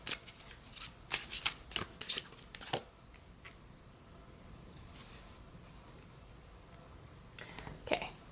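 A tarot card deck is shuffled in quick riffling bursts over the first few seconds, then near quiet, with a brief flutter of cards again near the end.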